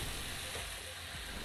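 Shrimp chow fun noodles with bean sprouts being tossed in a wok, a continuous loud sizzle and hiss with faint stirring scrapes throughout.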